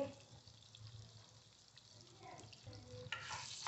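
Dried chillies, lentils and dry coconut frying in a pan while being stirred, a faint soft sizzle with scraping stir strokes, quiet and close, brightening slightly toward the end.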